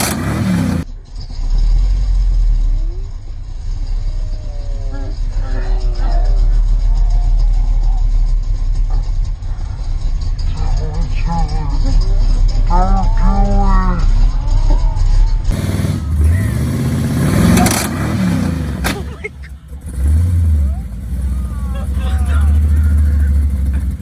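LS-swapped Jeep with a stock Dana 35 rear axle driving hard, engine roaring loud and continuous with a sharp change partway through as the axle breaks, voices talking over it.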